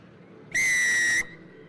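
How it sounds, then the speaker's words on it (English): Referee's whistle at a Portugal versus Canada rugby match, one sharp, loud, sustained blast of under a second, standing alone over quiet crowd ambience. "Moran Ferreira blows the whistle."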